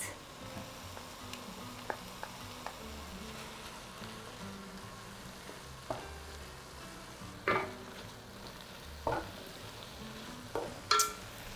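Tomato paste being stirred into a sizzling beef lasagna meat sauce in a pan, a quiet steady frying hiss broken by scattered scraping clicks from the spoon, close and without talk.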